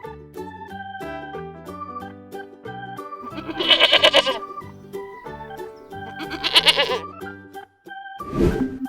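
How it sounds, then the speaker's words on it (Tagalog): A goat bleats twice in wavering, nasal calls over a steady backing tune, with a short sound effect near the end. "Goat."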